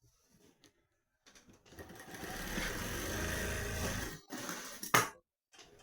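An electric sewing machine runs in one continuous burst of a little over two seconds, stitching a pant pocket, with brief handling knocks and clicks before and after, close by.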